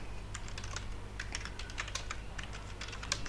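Quiet, quick keystrokes on a computer keyboard while entering code in a Laravel tutorial, an irregular stream of soft clicks over a low steady hum.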